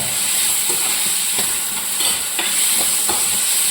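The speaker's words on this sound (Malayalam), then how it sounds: "ഞാനതൊന്ന് വഴറ്റുവാണ് ശകലം ഉപ്പും ചേർത്തിട്ടുണ്ട്" About twenty chopped small onions with a pinch of salt sauté in a pan, giving a loud, even sizzle with a few soft stirring scrapes and no talking.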